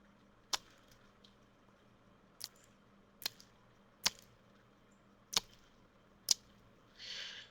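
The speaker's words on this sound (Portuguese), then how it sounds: "vou fazer aqui o barulho de boca só para você ter uma ideia" Six sharp mouth clicks and smacks, spaced irregularly over quiet background, followed by a short breathy hiss at the end.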